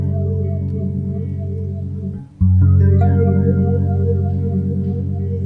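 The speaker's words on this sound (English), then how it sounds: "everything above that is going through the phaser effect, which, as you can hear, sounds like this." Bass guitar with a phaser on everything above the low end while the deepest lows stay dry, sustained notes swirling and sweeping, with a brief gap before a new note rings out loud and close.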